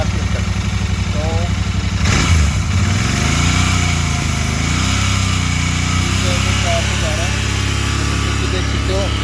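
A Royal Enfield Continental GT 650 parallel-twin engine revs up sharply once, then settles back to a steady close idle, heard loud and continuous with someone talking over it.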